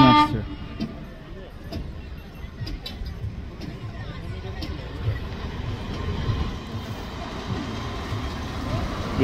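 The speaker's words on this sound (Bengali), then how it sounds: "সুন্দর ট্রেন আসছে।" Train arriving at a station platform with a crowd waiting, a continuous rumble of the approaching rail cars mixed with short horn toots and people talking nearby.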